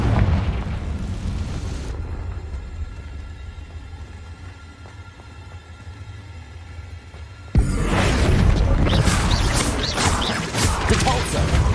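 Confringo fire spells blasting in the Hogwarts Legacy video game, a loud continuous roar of explosive bursts with a sharp, heavier blast partway through over constant game noise and voice.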